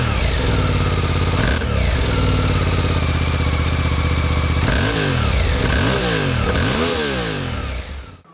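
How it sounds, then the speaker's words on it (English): A dirt bike engine with its stock exhaust runs loud and close, holding a steady idle before several sharp revs rise and fall in quick succession, then the sound cuts off at the end. "Now it's running, it definitely sounds better, but it's still really quiet."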